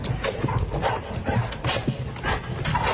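A dog attacking a fake tiger, with rapid scuffling, thumping steps and panting bursts in an uneven, busy rhythm, close and moderately loud.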